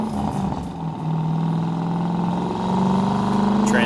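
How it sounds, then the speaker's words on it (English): Engine and exhaust note of a 2002 Chevrolet Corvette Z06 heard from inside the cabin with the windows down while driving, a steady droning rumble that swells louder toward the end as it pulls. "I have the windows down so you guys can hear the exhaust"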